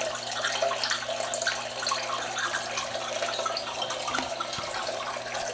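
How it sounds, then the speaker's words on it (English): Water drains steadily through an aquaponics bell siphon in a grow bed, a continuous close rushing and trickling flow with a faint hum beneath, no voices. "The siphoning has taken place,"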